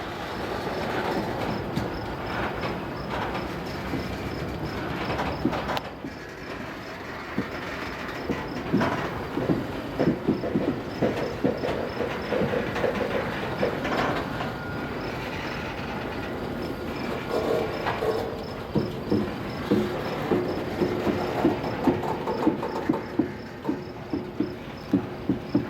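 A 7,000-foot CSX coal train crawls at walking speed up a curving uphill grade, with loud continuous rumbling, repeated clickety-clack of wheels over rail joints and occasional wheel squeal, close by, with no talking.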